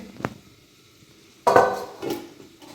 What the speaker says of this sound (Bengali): আর এখানে আলু ভেজে নিচ্ছি